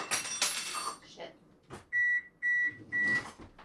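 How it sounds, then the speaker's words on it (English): A kitchen oven beeps three times in a steady sequence to signal it has finished preheating, the tones loud and close after some brief rustling and a person talking early on. "That beeping you just heard means the oven is preheated."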